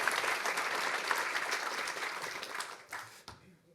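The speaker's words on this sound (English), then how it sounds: "So please have a big round of applause for Willem" Conference audience at a Rust programming event in Paris applauding as a speaker takes the stage, a dense burst of clapping that swells then thins out and stops after about three seconds.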